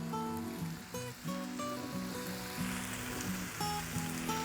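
Bacon strips sizzling on a Blackstone flat-top griddle, a steady hissing crackle that runs throughout, close up, with music playing over it.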